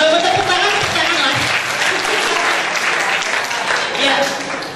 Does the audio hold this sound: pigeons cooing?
no